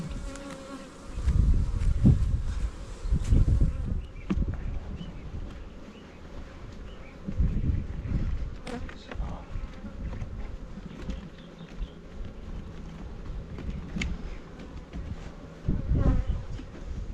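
Honeybees buzz steadily around a hive in a mountain nuc yard, a dense, continuous drone with louder swells as individual bees pass close by.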